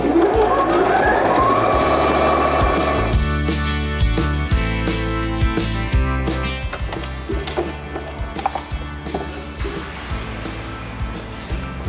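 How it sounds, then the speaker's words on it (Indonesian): A sewing machine stitches around the edges of a simple tote bag in a steady, loud mechanical whir that runs the whole time. Its rhythm shifts into choppier bursts and stops partway through as the fabric is guided. "Kita jahit keliling ya."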